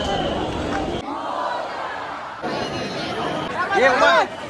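A dense festival crowd gathers for Ganpati darshan during the Ganesh festival in Mumbai, with a constant hubbub of chatter and voices close around. There is a louder burst of shouting near the end.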